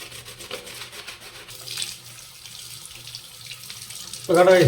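The body of a DJ stage light panel being washed: quiet rubbing and handling noises, then a tap suddenly gushing water loudly over it near the end.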